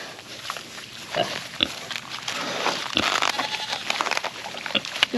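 Pigs on a homestead grunt and snuffle up close, with intermittent sharp squeals and rustling among them.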